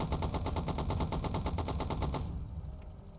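Sustained machine-gun fire in the Stormworks video game, a steady loud stream of evenly spaced shots that stops abruptly, leaving quieter background sound.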